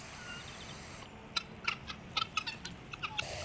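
Pet birds call in a quick run of sharp, bright chirps and squawks close by, starting a second in and repeating irregularly over a steady background hiss.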